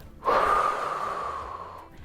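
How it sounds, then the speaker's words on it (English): A single sharp breath in followed by a long, steady blow out during a calm breathing exercise, close and clear with no talking. "this time we're gonna be really quiet so we can hear our breathing in and out"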